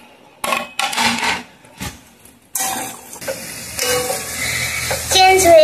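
Chilli, garlic and ginger fry lightly in oil in a home kitchen, with a soft crackling sizzle that picks up and holds steady after a few quiet gaps, mixed with stirring and the scrape and clink of a utensil against the pan.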